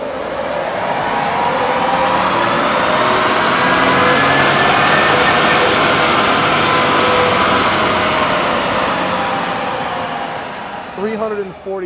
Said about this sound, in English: put their E36 on the dyno and find out what 400 kilowatts means in terms of horsepower